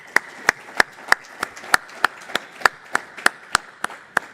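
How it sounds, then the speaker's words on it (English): A new master's class in management and strategy claps in unison, about a dozen sharp, evenly spaced claps that ring out together at a steady rhythm, with no talking over them. "I want you to give yourself a huge round of applause"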